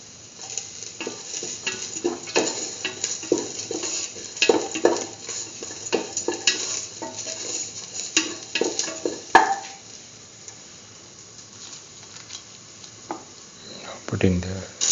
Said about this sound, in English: Keep on sauteing the garlic pieces until they become slightly yellowish.